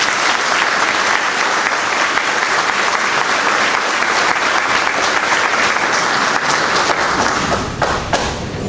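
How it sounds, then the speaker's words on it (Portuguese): A civic ceremony honouring a monsignor on his 25 years as a priest draws sustained, dense applause from the audience, loud and even throughout, tapering slightly at the very end. "Uma salva de palmas para ele."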